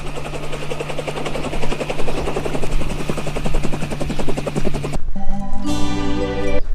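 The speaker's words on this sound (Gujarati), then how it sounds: "ડ્રાઈવર એ હેલિકોપ્ટર તું બંધ ન કરતો" A helicopter engine runs loud and close, its rotor chopping in a fast steady pulse over a droning whine, then the tone abruptly shifts to a higher harmonic hum near the end.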